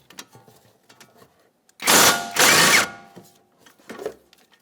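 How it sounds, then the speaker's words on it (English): A 17mm ratchet works on the front caliper bracket mounting bolts of a 2014-2019 Toyota Corolla, with two loud, rasping bursts back to back amid quiet workshop clicks. "we're going to start removing our caliper bracket mounting bolts. For this, we're using a 17mm"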